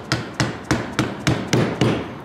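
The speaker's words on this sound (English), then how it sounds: "I got my rubber mallet here, and I'm just gonna tap this off really gently" A rubber mallet taps a fuel filter out of its bracket housing on a Chevrolet S-10, with seven evenly spaced dull, close thuds and no talk.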